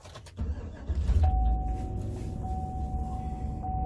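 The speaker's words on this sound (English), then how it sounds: "I'll just try starting the truck" A truck engine is cranked and catches, a brief starter whir followed by a low steady idle rumble with a thin whine running over it, heard close by.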